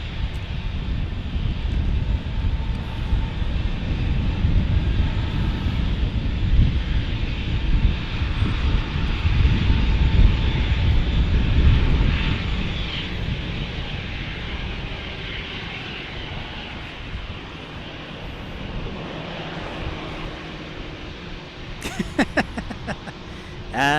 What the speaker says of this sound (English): Next arrival, Alaska Max.